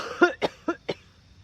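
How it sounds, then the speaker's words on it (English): A person coughs four times in quick succession, short sharp bursts spaced evenly and close to the microphone, with no speech around them. "I always cough."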